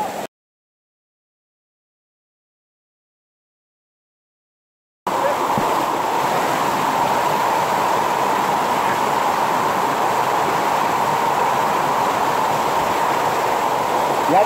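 Waterfall at Rajgad, a hill fort near Pune, as a steady broad roar of falling water that starts abruptly after a stretch of silence and continues unbroken, loud and close.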